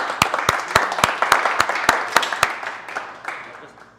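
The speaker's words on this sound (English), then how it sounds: "So how about a big round of applause for Florian?" A small crowd at a tech meetup claps in sharp, evenly spaced bursts, about a dozen distinct claps over a few seconds that grow fainter and sparser toward the end.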